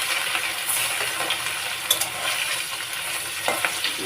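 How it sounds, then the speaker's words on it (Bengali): Turmeric-and-salt-rubbed fish frying in hot oil in a pan, a close, steady crackling sizzle with scattered pops and small spatter bursts throughout. "মাছটা ভাজতে থাকি"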